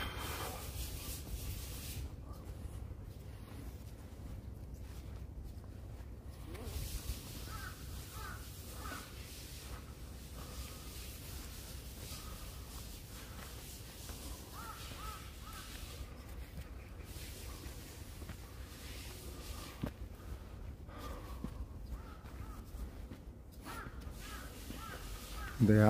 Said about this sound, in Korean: 까마귀 울음소리가 크게 들리는